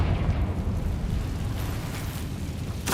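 A Confringo blasting spell goes off in the Hogwarts Legacy video game, producing a deep, rumbling, sustained boom that ends in a sharp burst near the close, with no speech over it.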